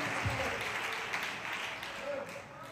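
Church congregation clapping in praise during a Spanish-language service, a moderate steady patter of hands mixed with voices and room noise.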